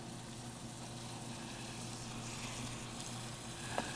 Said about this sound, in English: our vegetables are cooked about halfway, and we're gonna add our tomatoes to the pan